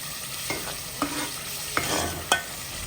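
Masala spices sizzle softly as they fry in a hot pan while a spoon scrapes and stirs in a few sharp, irregular clacks against the metal.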